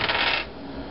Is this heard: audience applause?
no